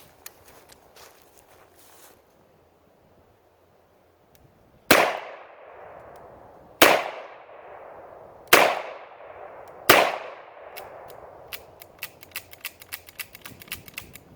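Armscor M200 revolver firing four loud gunshots spaced a second or two apart, each with a ringing decay, surrounded by quieter metallic clicks and handling noise.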